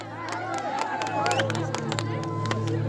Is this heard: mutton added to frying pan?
no